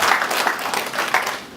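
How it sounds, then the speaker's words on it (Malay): Loud, thunderous applause from a political party youth assembly audience in Malaysia, a thick, close wash of clapping that swells in uneven waves. "Beri tepukan gemuruh kepada Ketua Pergerakan kita."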